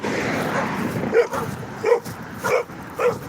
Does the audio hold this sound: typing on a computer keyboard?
no